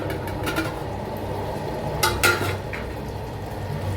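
A spoon stirs cooked eggplant and potato in a pot, with soft scraping against the metal and a few sharper clinks near the middle over a low background hiss, no talking.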